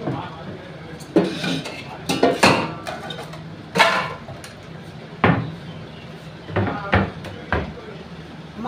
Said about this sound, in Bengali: আমি ফ্রাই প্যানটা বসিয়ে দিই।